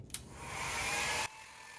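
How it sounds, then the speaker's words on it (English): A hair dryer blowing on wet watercolor paper whooshes steadily at close range for just over a second, then cuts off abruptly, leaving a faint hum. "So I can move it around with a hairdryer."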